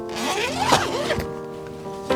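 A zipper on a camper tent pocket is pulled open in one long rasping run with a short tug at the end, close and clear with no talking.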